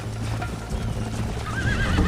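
A horse in Red Dead Redemption gallops with steady clip-clop hoofbeats, then lets out a loud rising whinny near the end, close and clear over an outdoor game background.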